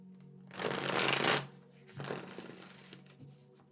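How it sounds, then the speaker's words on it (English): Tarot cards are shuffled twice in quick riffling bursts, close and soft, with a short pause between them. "you are welcome to skip the shuffling process"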